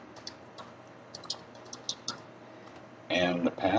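A computer keyboard clicks out a username in short, irregular bursts of light taps, quiet and close, before a voice begins speaking near the end.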